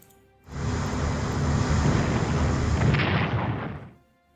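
A naval gun bombardment in the Strategic Command WW1 strategy game, a loud, sustained roaring blast with a heavy low rumble that lasts about three and a half seconds before cutting off.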